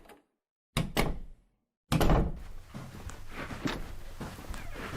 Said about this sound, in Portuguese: aquele barulho da porta abrindo